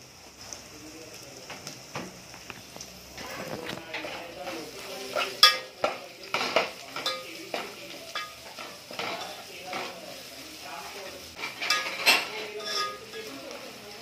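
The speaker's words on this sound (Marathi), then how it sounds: "हे कमी गॅसवरतीच आपण परतून घ्यायचं, लसूण आणि हे सगळं जळू नये म्हणून" Garlic and spices, including a spoonful of asafoetida, sauté gently over low heat for a tomato saar while a spoon stirs and clinks against the pan in irregular taps over a soft sizzle.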